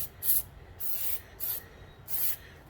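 Short bursts of CRC 5.56 penetrating lubricant sprayed from an aerosol can onto a car brake caliper, four distinct hissing squirts with brief pauses between them, close and clear over low background hum.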